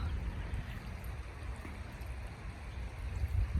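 Continuous rushing water from a stream in the woods, a steady, fairly close burble and hiss with no voices over it.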